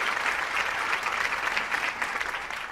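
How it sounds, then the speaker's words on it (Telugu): An audience claps steadily for a little girl on a televised courtroom-style talk show, dense applause holding at an even level throughout with no voices over it. "చిన్న పిల్ల కోసం అందరూ చప్పట్లు కొట్టండి."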